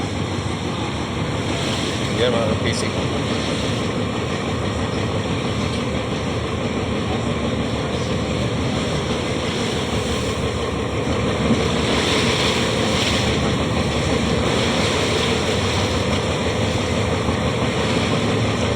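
Steady wash of surf and water noise with wind buffeting from a fishing boat nearing mountains, a continuous broadband roar throughout, with someone talking briefly over it.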